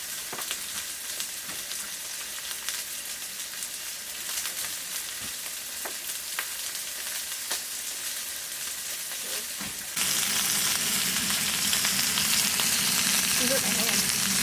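Cheeseburger patties sizzle and fry steadily in a cast iron pan at a winter camp inside a wall tent, a dense continuous crackle that grows louder and fuller near the end, with no talking.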